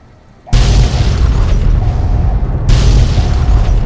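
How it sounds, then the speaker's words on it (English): A video game explosion: a loud boom bursts in suddenly, followed by a sustained roaring rumble, with a second blast hitting partway through, close and powerful. "Explosions everywhere."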